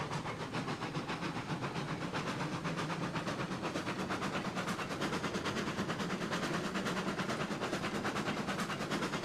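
Steam locomotive running in the game Railroads Online, a steady rolling rumble with dense rhythmic chuffing and hiss that holds at an even loudness throughout, with no voices.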